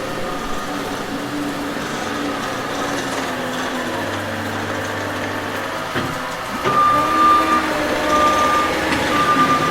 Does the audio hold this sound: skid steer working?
yes